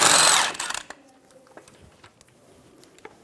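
A power tool with a 19mm socket spins off the tie rod end nut on a 2005-2015 Toyota Tacoma, a loud, close burst of whirring lasting under a second, followed by quiet clinks and handling noises.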